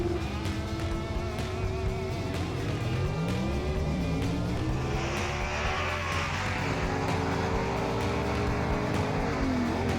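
Gasser drag race cars launch and scream down the strip, engines howling loud with rising pitch as they accelerate and shift, a sustained, close racing roar with no talk.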